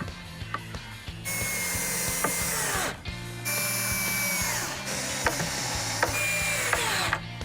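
A power drill bores into wooden easel parts, whining steadily in long sustained runs broken by short pauses, loud and close with no talking.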